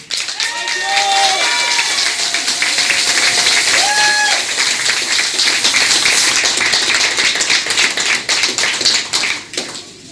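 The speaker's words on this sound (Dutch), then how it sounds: "Nog één keer een groot applaus voor deze kanjer" An audience at a carnival session bursts into loud, dense applause that continues throughout, with crowd noise and some voices and whistles over the clapping.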